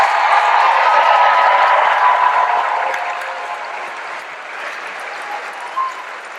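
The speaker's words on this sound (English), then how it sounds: "Let's give the class of 2023 a round of applause." Audience applause fills a commencement ceremony hall for a graduating high school class, a dense, steady wash of clapping that starts loud and gradually thins and fades toward the end.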